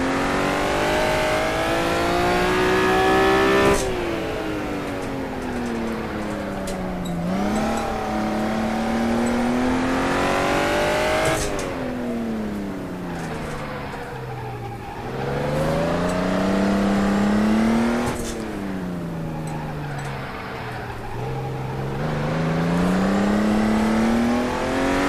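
A Honda NSX is driven hard around the Buckmore kart circuit, its engine revving up in long rising sweeps, dropping sharply on each lift and climbing again, loud and close throughout.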